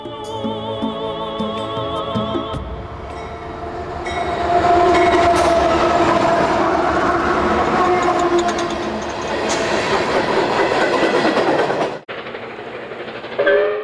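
A passing passenger train hauled by preserved Royal Hudson steam locomotive 2816 in the Rockies rumbles loudly with rhythmic clatter and a horn sounding early on. The heavy mechanical roar builds, then cuts off abruptly near the end.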